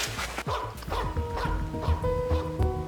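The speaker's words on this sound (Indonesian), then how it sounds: "Kenapa anjingmu menggonggong?" A dog barks close by in several sharp, repeated woofs and yips, loud and rhythmic, over light background noise.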